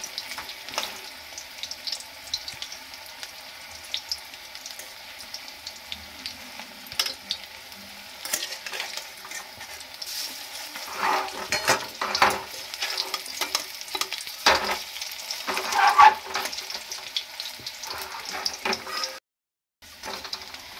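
Food sizzles in a frying pan while a piece is flipped to cook its other side. A soft, steady fry is punctuated by scraping and knocking of the utensil, louder in the middle, with a brief silent gap near the end.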